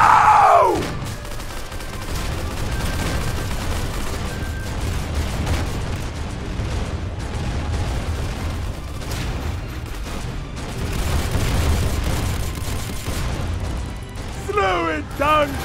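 Rapid gunfire and explosive booms in the Roblox game Arsenal during a Halloween boss fight, with dense shooting and blasts throughout, under frequent shouting voices.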